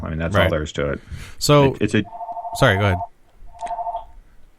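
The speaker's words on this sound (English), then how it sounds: "Sorry about that phone ringing." A telephone rings in a home office in two short electronic trills, partly under and between a man's speech.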